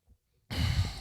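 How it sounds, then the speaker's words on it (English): A single soft breath or sigh is heard up close: a faint intake followed by a longer, louder exhale that trails off, with no talk. "Just breathing."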